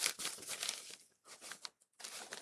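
Paper crinkles and tears in several close, crisp bursts separated by short pauses.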